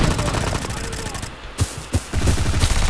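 Gunfire in the online shooter video game Bullet Force, a dense battle mix of rattling shots with a couple of sharper bursts standing out near the middle, under a steady clamor of game noise.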